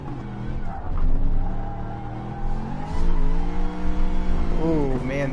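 A Gr.3 race car slides and skids around Dragon Trail in Gran Turismo Sport, its engine droning steadily as the tires squeal through the drift and the revs climb and wobble, loud and close, while someone talks over it.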